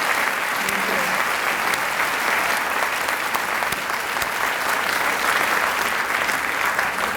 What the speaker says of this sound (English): Can we give one more round of applause to the wonderful children of the concert choir?